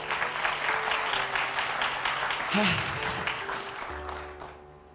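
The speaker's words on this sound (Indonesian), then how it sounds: "Tepuk tangan untuk Rashid" Audience applause for Rashid after his Quran recitation of surah Al-Infitar, a steady wash of clapping that runs loud for several seconds with a voice breaking through, then thins out near the end.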